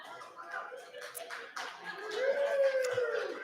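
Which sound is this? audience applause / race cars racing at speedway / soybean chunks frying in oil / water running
audience applause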